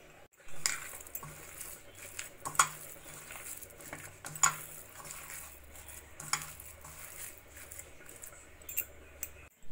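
Chicken pieces are mixed by hand with spices and cornflour in a bowl, with soft wet squelching and several sharp clinks of a spoon against the dish, close and intermittent.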